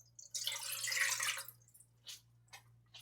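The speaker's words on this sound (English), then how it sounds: "I add 2 cups of water" Water pours into a large pot while steaming shrimp, a bright splashing stream for about a second, then a few brief trickles and drips, fairly quiet over a low steady hum.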